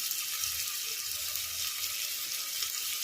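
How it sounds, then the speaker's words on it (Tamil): Onions sauté with curry leaves and coarse salt in a pan over a high flame, the base for a country chicken curry. A constant close sizzling hiss carries on without pause and with no talk. "வெங்காயம் நல்லா வதக்கிற வரைக்கும் நல்லா கரண்டி வச்சு நம்ம கிண்டி விட்டுட்டே இருந்தால் கொஞ்சம் வதங்கிடும்."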